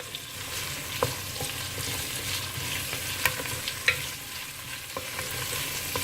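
Tomatoes are stirred into onions frying in a pan for a crab rasam soup, with a steady close sizzle broken by a few sharp spoon taps and scrapes against the pan.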